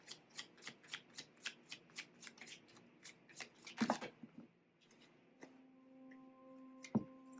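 Tarot cards being shuffled by hand, a steady run of crisp riffling flicks close to the mic, followed by a few louder bursts of cards and light handling in a quiet room.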